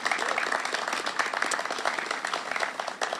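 Applause from a gathered crowd at an outdoor street dedication ceremony honoring Roberto Clemente, steady dense clapping sustained throughout, close and moderately loud with no voices over it.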